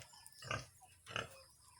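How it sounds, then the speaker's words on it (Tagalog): A pregnant pig on a rural provincial farm gives two short, close grunts about half a second apart, with quiet between them. "May baboy tayo."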